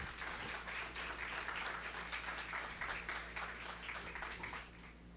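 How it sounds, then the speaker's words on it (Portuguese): A church congregation applauds together, steady dense clapping filling the room for several seconds, loud and sustained before easing slightly at the end. "você pode aplaudir ao Senhor por isso?"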